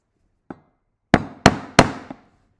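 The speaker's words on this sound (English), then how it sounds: "So first up, we're just going to be doing a series of stop cuts." Wooden mallet blows drive a carving chisel into wood for stop cuts: one light tap, then three sharp, loud knocks in quick succession and a softer final tap, with no talking.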